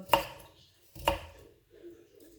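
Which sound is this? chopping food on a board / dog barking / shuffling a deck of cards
chopping food on a board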